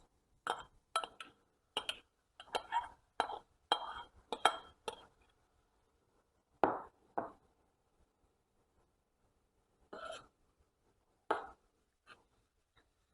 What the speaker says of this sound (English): Let me mix my pasta into the sauce.